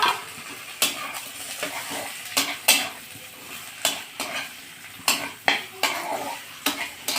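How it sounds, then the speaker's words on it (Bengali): Fish pieces are stirred into cooked masala in a pan for a whole-onion fish curry, with repeated sharp spoon clanks against the pan over a soft frying hiss, close and fairly loud, with no talking. "মাছগুলো দিয়ে একটু নাড়াচাড়া করে নিলাম, যাতে মশলাটা সুন্দর মাছের ভেতরে ঢুকে যায়"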